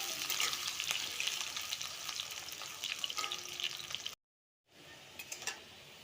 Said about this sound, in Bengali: তেলটা গরম হয়ে গেছে, এখন আমি আলুগুলো ভেজে নেব।